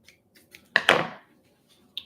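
Scissors snip through white ribbon in a quick pair of crisp, close cuts, with faint rustling before and after and no talking.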